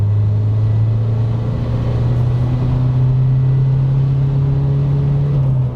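A Fiat Talento minibus accelerates in third gear with a steady, loud engine drone whose pitch rises slowly. Road rumble sits underneath and no one speaks.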